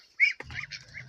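A duck quacks a few times nearby, short nasal calls in a quick irregular run, with a soft low rumble underneath.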